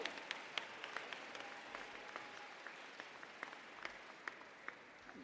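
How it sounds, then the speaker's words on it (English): A school closing ceremony audience gives the Mason homeroom a round of applause, with soft, distant scattered claps and a few sharper close ones over a low room hum. "Can we get one more round of applause for the Mason homeroom?"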